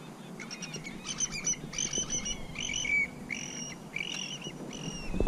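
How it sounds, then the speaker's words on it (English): Birds call repeatedly over the water at a saltwater redfish fishing spot. Their chirps and squawks come in quick overlapping bursts at moderate distance above a steady outdoor background. "we're definitely going over here where these birds are at"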